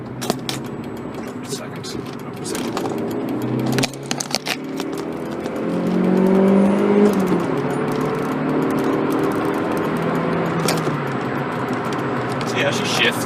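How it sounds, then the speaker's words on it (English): A Volkswagen Polo GTI engine revs out through its gears, the pitch climbing and dropping across shifts while road and wind noise build, with a brief voice near the start. "so I'll rev it out now."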